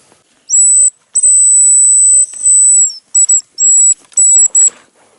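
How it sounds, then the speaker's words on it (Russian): A plastic hunting whistle for hazel grouse gives piercing, high, thin tones: one long held note, a second long note, then a series of shorter clipped chirps, loud and close with no talk. "Мои железные старые рябчиковые свистки пару раз свистнешь и слюной забивается."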